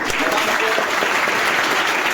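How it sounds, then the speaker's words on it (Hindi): Audience at a training institute placement event bursts into steady, loud clapping, a brief dense round of applause with no talk over it. "ताली हो जाए"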